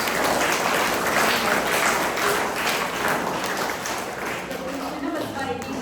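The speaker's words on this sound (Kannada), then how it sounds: "ನಾವೆಲ್ಲರೂ ಅವರಿಗೆ ಒಂದು ಶುಭಾಶಯಗಳನ್ನು ಒಂದು ಚಪ್ಪಾಳೆ ತಟ್ಟುವುದರ ಮೂಲಕ ನಾವೊಂದು ಅರ್ಪಿಸೋಣ" An audience claps to congratulate Channabasava Reddy and Sanjana on their wedding anniversary, a dense steady patter of many hands sustained throughout with faint voices mixed in.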